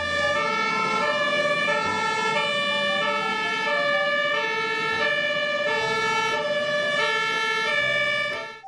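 A toy water cannon truck sounds its electronic siren, a loud, steady two-tone wail that repeats in a regular cycle for several seconds before cutting off.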